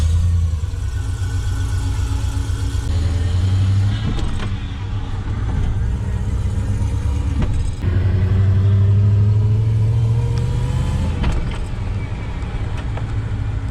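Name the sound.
car driving, engine and gearbox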